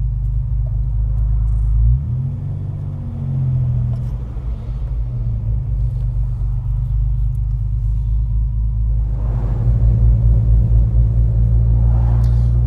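A Ford Capri 2.8 Injection with a new viscous fan coupling idles in a slow traffic queue, its low steady engine rumble continuous throughout, with a brief swell of revs early on and louder fan or engine noise toward the end.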